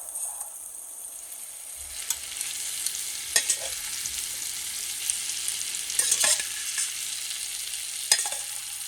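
Chunks of pork shoulder hit a hot paella pan and sizzle steadily in oil, a loud continuous hiss with occasional sharp spatters and scrapes close up, no talking.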